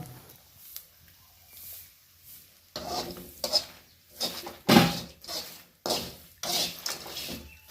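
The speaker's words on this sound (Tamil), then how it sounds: "மூக்கு மீன் நல்லா செவக்கிற அளவுக்கு வறுத்துட்டு இருக்கோம்" Needlefish frying in a pan for a village-style fish chutney until reddish; after a quiet start, bursts of sizzling and scraping stir strokes come in uneven pulses, close and moderately loud.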